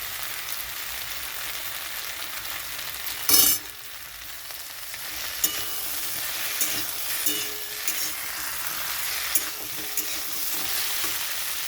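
A spoonful of ghee hits hot boiled vegetables in a pan, giving a sharp sizzling burst, then a steady crackling fry continues with occasional stirring clinks.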